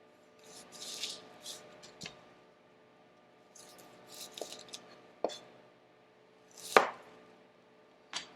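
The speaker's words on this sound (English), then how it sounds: "we start cutting our onion" A knife cutting through an onion on a board in a home kitchen, with sparse, separate chops and scrapes, a few sharper knocks standing out against a quiet background.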